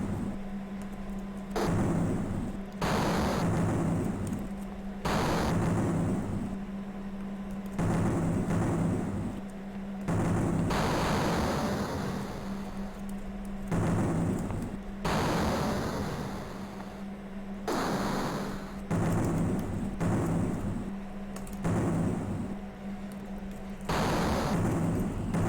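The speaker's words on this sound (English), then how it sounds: "they've got like little mortars that they're using to launch those explosive rounds at me" Mortar rounds explode in a zombie crime video game as a repeating series of heavy booming blasts, each burst followed by a short pause, carrying on steadily at a moderate level.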